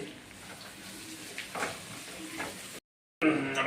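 Coriander gets stirred into a lemon rice tempering in a pan, making a soft, low sizzle with light scraping, then a brief silence before a louder burst of frying.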